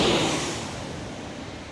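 A United jet airliner arriving at San Diego International Airport, a broad, steady roar of engine and rushing air that starts loud and slowly fades over under two seconds.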